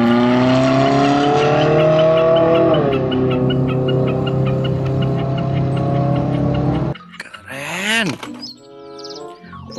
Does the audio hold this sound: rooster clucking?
no